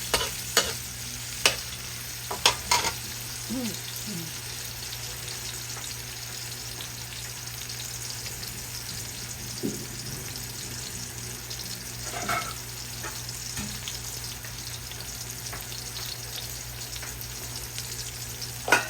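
Ingredients with tomato sauté in a pan for pochero, a steady quiet sizzle running throughout with occasional stirring clicks and scrapes, no talking.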